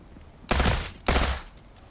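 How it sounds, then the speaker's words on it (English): Enemy gunfire in the video game Transience: two loud, dense bursts of rapid shots, each lasting about half a second, separated by a short pause and trailing into quiet. "And then I see where the shots are coming from, so I take the next guy out."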